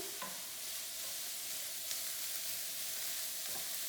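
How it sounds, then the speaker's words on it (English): Vegetables sizzle steadily in a pan while being stirred, a quiet, even frying hiss with a few soft scraping strokes, close and without talk. "Give that a little stir."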